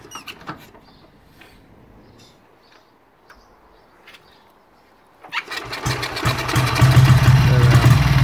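A 1952 Ariel NH 350cc motorcycle is kicked over a few times with quiet thuds, then the single-cylinder engine fires and settles into a loud, steady, close idle that lasts to the end.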